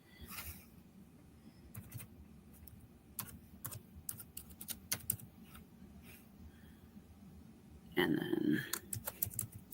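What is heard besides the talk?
typing on a computer keyboard to fill in a form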